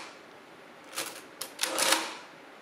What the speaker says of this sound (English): you activate the engine, the motor, and it adds it to the main register and increments the counter